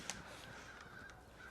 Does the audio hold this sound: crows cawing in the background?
yes